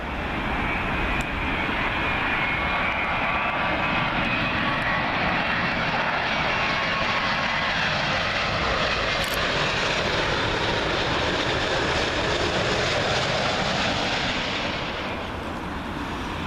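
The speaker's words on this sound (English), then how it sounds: "Up next, Virgin Atlantic 787-9 Dreamliner in from Washington." Virgin Atlantic Boeing 787-9 Dreamliner arriving from Washington on runway 27L at Heathrow, a loud, sustained jet engine roar that swells and passes close by, easing slightly toward the end.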